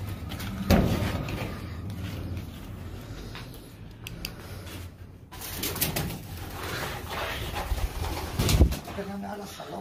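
Pigeons cooing in an old hotel stairwell in Ciudad Juárez, low soft coos heard intermittently under casual conversation between men, with some shuffling and thumps.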